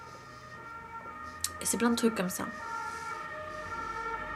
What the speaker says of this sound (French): les pompiers qui passent là. C'est une ambulance.